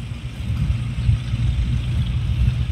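A tractor driving in straight rows across a field during groundnut harvesting, with a steady, loud, low engine drone that carries through without a break.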